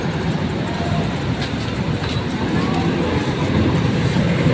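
A continuous rumble of an MRT Line 2 train running on an elevated track along EDSA, a steady, loud roll with faint clatter blended into dense traffic noise throughout.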